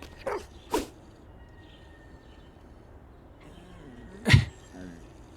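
A dog in a video game gives a few sharp, close barks, two quick ones at the start and another after a quiet pause, over a faint background hum.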